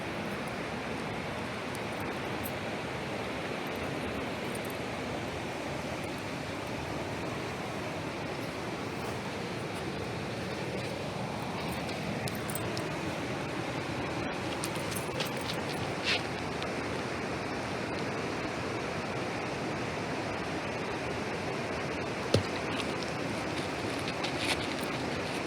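A river flows in a steady, broad rush of water that holds evenly throughout with no clear breaks, close and fairly loud, under a faint tap or two.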